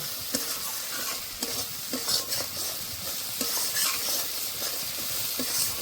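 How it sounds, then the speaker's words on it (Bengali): Spice paste sautéing in a pan for a rohu fish-head and greens ghonto, with a steady broadband sizzle and a spoon scraping and stirring in irregular strokes, close and fairly loud, no voices. "মশলাটা ভালো করে কষে নিয়েছি"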